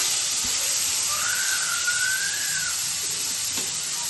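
Onions and curry leaves sizzle in hot oil with mustard seeds, a steady, loud, close hiss that holds evenly throughout, with a thin whistling tone rising briefly in the middle.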